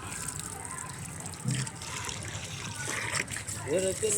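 Steady rush of water pouring from a tap, close by, with a person talking over it.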